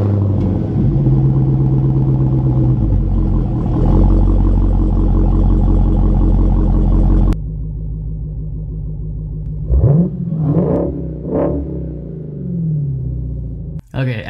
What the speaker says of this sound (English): let's go ahead and take this opportunity and take a quick listen to that aggressive exhaust